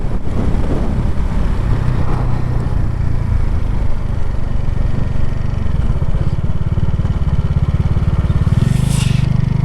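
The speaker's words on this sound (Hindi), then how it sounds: "मैं जा रहा हूँ अपनी मोटरसाइकिल से" A motorcycle rides along a road near the Ganga and Kosi river confluence at Kursela, its engine drone steady and close throughout, with a brighter rising note near the end.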